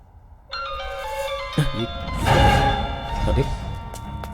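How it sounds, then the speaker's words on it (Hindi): A phone ringtone chimes in a melodic series of tones, joined by thuds and shuffling movement nearby. "अरे भाई का फोन आ रहा है यार।"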